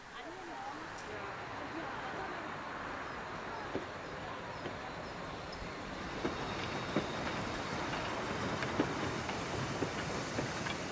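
A narrow gauge steam train sits at Sitau station in Saxony, a steady rumbling and hissing wash with scattered metallic clanks and knocks, heard at moderate distance through the whole stretch.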